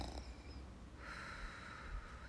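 A voice imitates a gentle, soft snore, one brief breathy snort-like inhale, faint and close.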